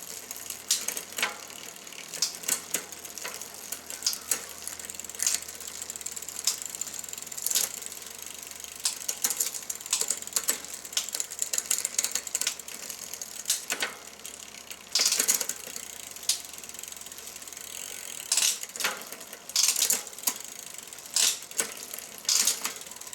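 Mountain bike drivetrain with a freshly adjusted shifter cable, its gears clicking through shifts and the freewheel ratcheting in steady rapid bursts, close and fairly loud, with no talk.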